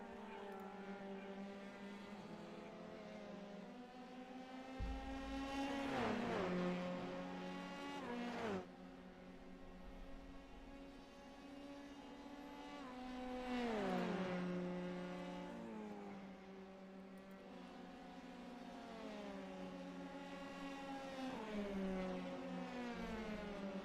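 Racing cars lapping Road America in an iFormula F3 sim race, engines droning and revving continuously, with rising and falling pitch sweeps as cars shift gears and pass close by.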